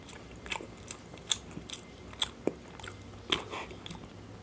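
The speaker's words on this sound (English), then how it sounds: "let's try this Coconut Choco Chips" Coconut chocolate chip cookies bitten and chewed up close: a series of sharp, crisp crunches at irregular intervals over quiet mouth sounds, soft and intimate, with no talking.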